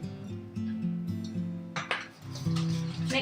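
Flour and cornstarch being stirred into a vegan batter in a bowl, with repeated scraping and clinking of a utensil against the dish, close and steady, with no talk.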